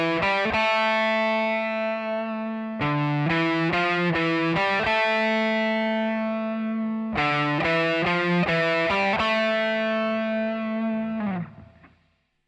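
Electric guitar plays the calm bridge section of a song with effects and distortion, sustained chords changing in clusters of quick notes, loud and steady before ringing out at the end.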